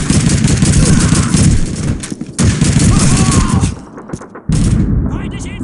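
Call of Duty 2 gunfire crackles in a dense, continuous fusillade of overlapping rifle and machine-gun shots, loud and close, briefly dropping out twice before resuming, with shouted voices mixed into the battle.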